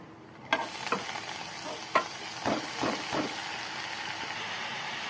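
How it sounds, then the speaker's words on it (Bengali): Onions fry in hot oil in a karahi, a continuous sizzle with several sharp scraping stirs and clatters of a spatula against the pan, close and moderately loud. "কেরাহি বহায় দিছি, তেল গরম হয়ে গেছে, পেঁয়াজ দিয়া দিই"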